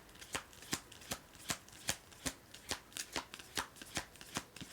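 A new deck of cards being shuffled by hand, with a steady run of about fifteen crisp, close riffling slaps at an even rhythm and no talking.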